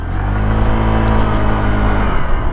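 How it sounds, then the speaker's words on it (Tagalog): An upgraded Euro Motor Falcon 180i motorcycle engine revs up close and loud, a sustained throaty drone with strong low harmonics that holds steady before easing off. "yung parang yung galit ng makina mas iba."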